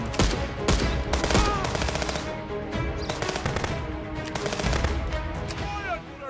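Rapid bursts of automatic gunfire in the police video game Contraband Police, loud and close, with overlapping shots and a voice shouting in between.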